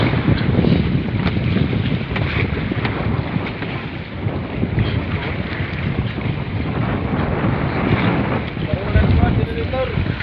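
A generator runs aboard a fishing boat at sea, a loud, steady broadband drone mixed with gusting wind noise on the microphone, with voices faintly underneath.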